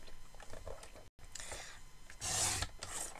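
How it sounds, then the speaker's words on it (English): Paper trimmer cutting a card for an embossed greeting card: soft rasping and rubbing close by, a brief silent gap, then a brighter swish of the blade sliding through the card, quiet and without talk. "So I'm just going to put that in my trimmer"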